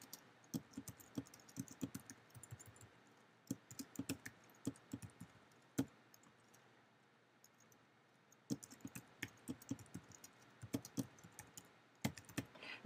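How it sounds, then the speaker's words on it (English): Keywords typed on a computer keyboard in bursts of quick, close key clicks, with short pauses between bursts and no talking. "Notice I type in both singular and plural of the phrases."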